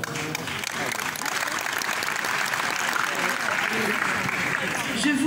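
A concert audience at an Andalusian-Atlantic music festival session in Essaouira breaks into sustained, dense applause, loud and steady for the whole stretch, with faint crowd murmur mixed in.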